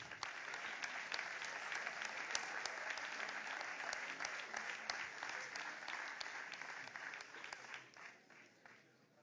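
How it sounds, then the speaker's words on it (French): Audience applause at an award ceremony for youth champions, steady sustained clapping from a sizeable crowd that gradually thins and fades toward the end. "On peut les applaudir bien fort."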